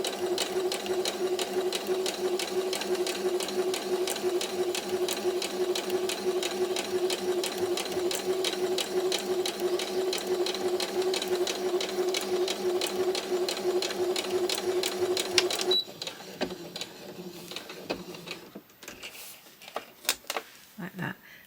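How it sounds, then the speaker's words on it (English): A sewing machine stitches a short tacking stitch along the edge of scrap fabric, a fast even mechanical whir for about fifteen seconds, then stops, leaving small clicks and handling sounds. "I'm going to do a little tacking stitch on that one edge"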